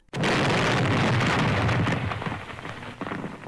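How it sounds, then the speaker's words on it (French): An explosion sound effect hits suddenly as a loud, dense roar, then rumbles on for about three seconds before slowly fading, with nothing else heard. "ça explose."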